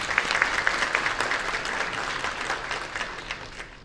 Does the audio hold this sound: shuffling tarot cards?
no